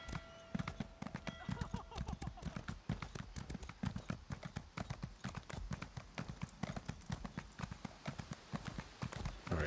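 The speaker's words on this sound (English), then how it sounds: "I wanted to ride my horse in the building" A horse's hooves clip-clop in a fast, steady trot in The Elder Scrolls Online, close and continuous with a brief whinny near the start, while a person talks over it.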